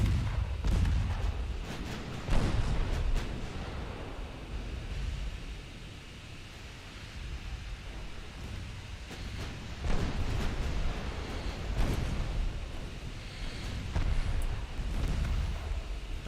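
Deep booming salvos from battleship main guns in the naval game Ultimate Admiral Dreadnoughts, several heavy rumbling blasts spaced apart over a constant noisy sea-like wash.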